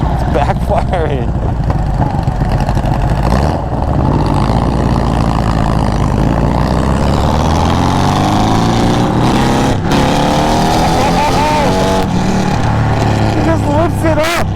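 A VW-engined trike revs hard and loud up close, its rough engine note rising and falling, with sharp backfire pops cracking out at intervals over the roar.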